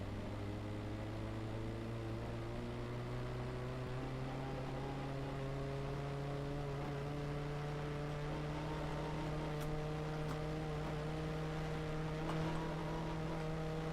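Petrol and diesel ACF engines in a video game rev together, steady droning tones with layered harmonics slowly climbing in pitch, fairly faint and continuous with a few faint clicks near the end and no talking.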